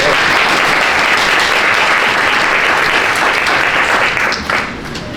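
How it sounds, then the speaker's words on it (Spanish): Sustained, loud audience applause at a talk on video games and philosophical reflection, a dense wash of clapping that carries steadily for about five seconds and thins slightly near the end. "Un aplauso."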